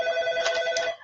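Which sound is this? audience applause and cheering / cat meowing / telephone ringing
telephone ringing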